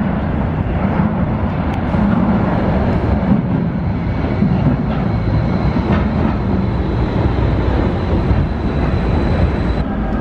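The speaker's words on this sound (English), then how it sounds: "I definitely try taking a metro ride in every city" Vienna metro train running underground, a loud, continuous rumble and roar with rattling wheels and clatter from inside the carriage, sustained throughout with no talking.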